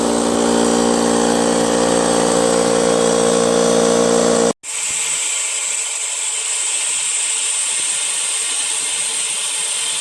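A Brute Briggs & Stratton 125 PSI 10-gallon air compressor, faulty and failing to build pressure, runs with a loud, steady mechanical drone, cuts out for a split second midway, then resumes a slightly thinner, constant whir.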